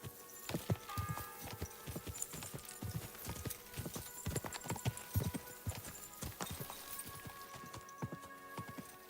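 A horse in Kingdom Come: Deliverance 2 clip-clops along at a steady walk. The distinct, fairly close hoofbeats sound under quiet ambient game sound, and a short whinny comes in near the end.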